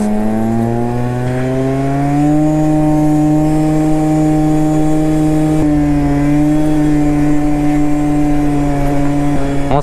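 A scooter engine drones at full throttle, a constant high-pitched whine holding steady with slight pitch shifts, loud and close throughout.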